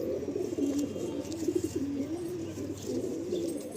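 A male Andhra Lalsira pigeon coos in a continuous, low warbling string of notes, close and steady, with some background rustle and no talking.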